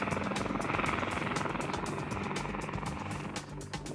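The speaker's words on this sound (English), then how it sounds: "looks for areas where the helicopter can land" A helicopter flies over steep New Zealand high-country mountains beside a lake, its steady rotor roar loud and close with a rhythmic blade thump throughout, easing slightly toward the end.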